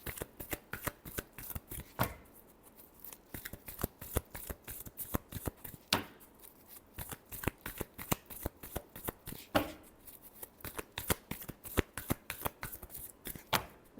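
Tarot cards riffle-shuffled repeatedly at close range, crisp papery bursts in a quick, uneven rhythm with brief pauses between shuffles, no talking over them.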